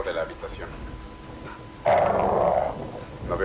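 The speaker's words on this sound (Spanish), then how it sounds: "Es el perro de la habitación." A dog growls in a room in the video game Call of Duty: Modern Warfare 2, a short, loud, rough snarl rising suddenly midway, with faint voices and game noise around it.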